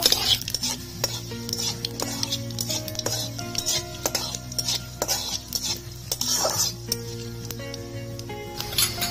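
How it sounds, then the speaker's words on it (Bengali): Two dried red chillies, a bay leaf and panch phoron sizzle in hot oil for a vegetarian mixed-vegetable chhokka while a utensil stirs and scrapes the pan in quick, clinking strokes, close up and with no talk. "ফোড়নে দিয়ে দেবো দুটো শুকনো লঙ্কা, তেজপাতা, পাঁচ ফোড়ন, নাড়াচাড়া করে নেব।"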